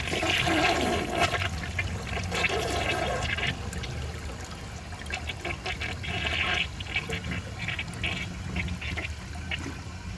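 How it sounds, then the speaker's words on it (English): A 1990 Peerless Concealed Jet toilet flushes with a worn dish towel in the bowl, giving a loud, steady rush of swirling water that holds for about ten seconds and then trails off into gurgling refill and trickling. "I'm going to flush it again, and I'm going to hold it so that it angles correctly and see if it can fit through the trapway."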